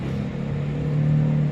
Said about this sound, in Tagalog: Tricycle na dumaan.